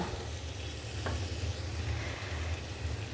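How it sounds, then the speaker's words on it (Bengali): Pre-fried shrimp tossed into spice paste in a pan for chingri bhuna, a dense continuous sizzle with a low rumbling stir throughout and a brief clink, no voices. "এবার আমি এখানে আগে থেকে ভেজে রাখা মাছ দিয়ে দেব"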